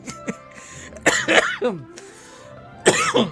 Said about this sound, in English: Sorry, I still have my cough.